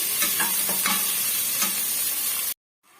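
Onion, garlic and curry leaves sizzle in a frying pan for a tomato gravy while a spoon stirs them in steady scraping strokes, close and loud, then the sound cuts off abruptly near the end.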